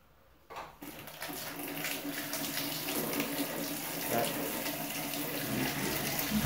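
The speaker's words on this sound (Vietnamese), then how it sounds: "mình mở bật cái van nước lên rồi nha" Tap water gushing strongly from a just-opened mains valve, filling a tank; a steady close hiss and splash starts abruptly after a brief quiet moment and runs continuously to the end.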